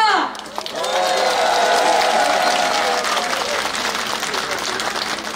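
A crowd claps loudly in front of the Incheon Landing Operation Memorial Hall at a Bareun Party campaign launch ceremony, sustained applause swelling after a brief start and continuing steadily to the end.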